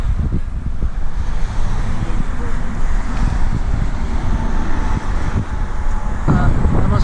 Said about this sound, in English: Nice and breezy out here in this open area.